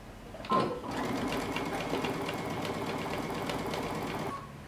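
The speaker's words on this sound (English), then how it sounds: "we're going to sew our side seams using 5/8 of an inch seam allowance, back stitching at the beginning and at the end" A sewing machine runs steadily for about four seconds, stitching the side seams of a lace sweater-knit dress with a fast, even whir. It starts after a brief knock and stops cleanly near the end.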